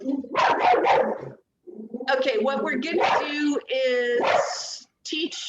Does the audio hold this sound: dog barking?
yes